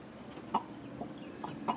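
Chickens cluck softly near a coop where a barred rock hen mingles with young chicks, a few short faint clucks spaced out over a quiet background.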